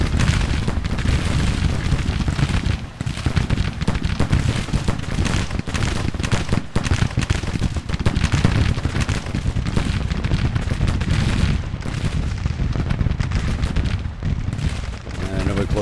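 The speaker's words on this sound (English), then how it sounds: "Good, my artillery's firing now too." Artillery booms in the Civil War strategy game Grand Tactician at the Second Battle of Grafton, dense repeated low thuds and rumbling blasts layered continuously with other battle noise.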